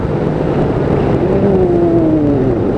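Yamaha FJ1200 motorcycle engine pulling hard through the gears, a loud steady roar with a rising pitch on acceleration, heard up close from on the bike.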